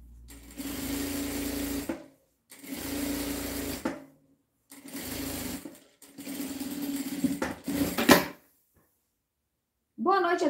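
A sewing machine topstitching along the edge of a cotton dish towel runs in four steady whirring bursts of a second or two each, separated by short pauses, loud and close.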